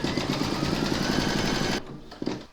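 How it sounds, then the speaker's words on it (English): An embroidery machine stitches an in-the-hoop panty liner and bag set, a steady loud motorized whirr with rapid needle rhythm that runs close and continuous, then stops abruptly, leaving a brief quiet with one small clack. "Pop your hoop into your machine and stitch round number 2 to secure them."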